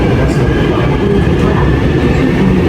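A train to Incheon Airport in South Korea running close by, a loud, steady rumble with rattling wheel noise that carries on without a break.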